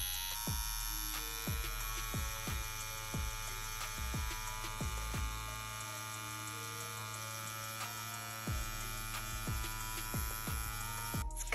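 A CNC X-WE wireless tattoo pen runs with a steady electric buzz and hum, punctuated by repeated short clicks and brief taps throughout, close and fairly quiet, with no talking.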